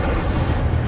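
Incendio fire spell in Hogwarts Legacy bursts as a short, dense, rumbling blast of flame, loud and steady for under a second with no voice.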